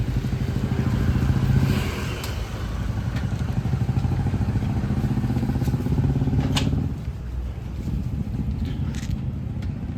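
A motorcycle engine rumbles close by, steady and throaty, with some clattering and a slight dip as it settles.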